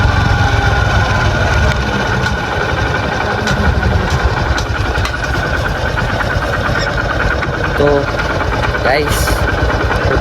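A Honda CD 110 motorcycle engine idles steadily and loudly throughout, a constant low rumble with faint background voices.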